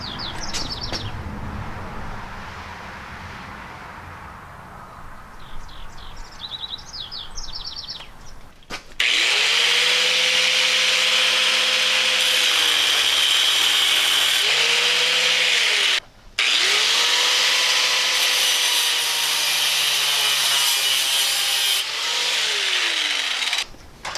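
Bicycle chain being cut with a power tool, a loud sustained grinding whine that starts abruptly, drops out briefly, then resumes with shifting pitch, after a quieter stretch of faint background noise and distant chirps.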